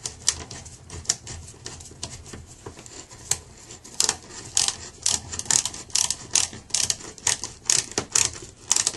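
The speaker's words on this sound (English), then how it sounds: "Now I've ratcheted it in" Ratchet driving a fastener into metal while patching drywall, sparse clicks at first, then a fast, loud run of sharp clicking bursts close by.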